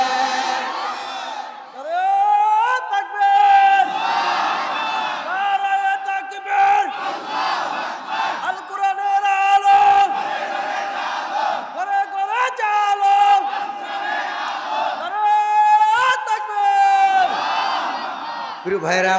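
A large crowd at an outdoor Bangla Islamic waz sermon chants slogans in loud, repeated unison calls, rising and falling in a steady rhythm of roughly one shout every few seconds, close and dominant throughout.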